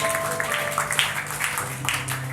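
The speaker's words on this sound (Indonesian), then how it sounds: "Berikan tepuk tangan untuk Tuhan kita." A church congregation applauds with a dense, continuous clapping that stays at a moderate level, with some music tones lingering underneath.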